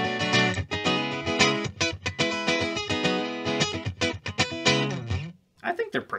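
A Fender Acoustasonic Telecaster played through a distortion pedal, chords and notes ringing with a saturated, buzzing tone, briefly dropping to near silence before resuming.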